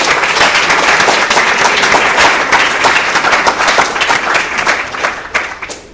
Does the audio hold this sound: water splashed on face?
no